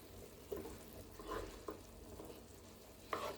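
Shrimp dropped into a pan with garlic for shrimp risotto sizzle steadily and faintly, with a few utensil scrapes and stirs.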